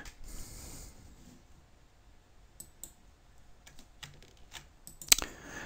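Computer keyboard typing in the VI text editor, with sparse, irregular quiet key clicks and a louder clack near the end, close and soft.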